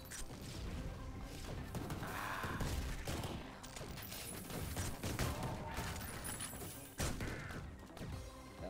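Dense gunfire and smashing impacts from the retro first-person shooter Ion Fury, played in a mall level with mechs, sustained and loud with sharp bursts throughout.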